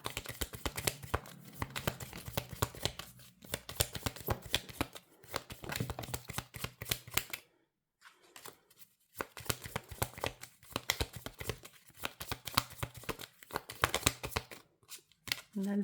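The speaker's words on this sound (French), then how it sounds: "Je vais mélanger mes cartes de tarot." Tarot cards are shuffled by hand in dense, crisp flurries of riffling and slapping, close and fairly loud, broken by a brief pause before resuming.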